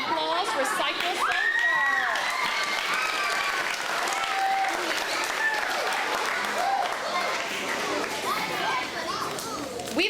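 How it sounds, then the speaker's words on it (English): At an elementary school Arbor Day celebration, a crowd of children and adults claps for Kristen. The applause is sustained and lively, mixed with cheering, children's shouts and chatter throughout. "Give Kristen one more round of applause"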